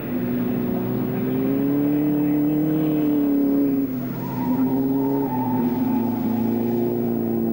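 Aston Martin race cars at a Silverstone club race, the leader passing on a lap with engines droning loudly and steadily, pitch shifting as cars go by, no talk heard.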